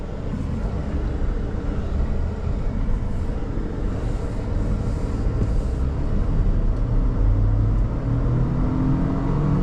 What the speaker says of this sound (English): We'll now demonstrate when we get a break of just how fast this little V6 is